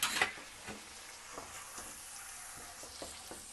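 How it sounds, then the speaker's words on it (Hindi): Half a kilo of chicken pieces frying in a hot pan with garlic paste for Bombay chicken curry, giving a steady close sizzle with a sharp burst at the start and soft stirring scrapes and clinks throughout. "चिकन शामिल करके हम इसको उस वक्त तक फ्राई करेंगे जब तक चिकन का कलर चेंज हो जाए"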